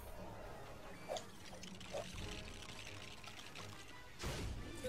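Water pouring in the video game Lego Star Wars: The Force Awakens, a soft trickling stream with a few brief splashes and a louder gush near the end, fairly quiet.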